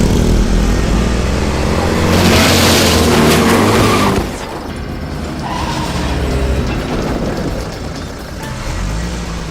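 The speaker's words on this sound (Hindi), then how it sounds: "उसी समय बहुत तेजी से एक स्कॉर्पियो गुजरी।" A Scorpio SUV races past at high speed, with loud engine roar and tyre skid building to a peak before dropping away into quieter road noise.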